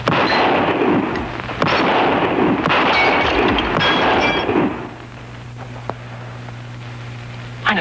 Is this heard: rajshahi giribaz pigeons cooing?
no